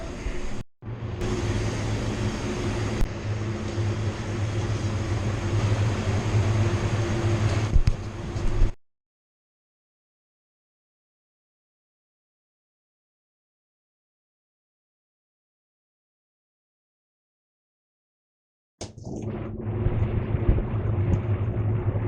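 Compressed air blows out the inside of a car bumper before matte clear-coat painting, a loud, close rushing blast for about eight seconds. Silence follows, then another burst begins.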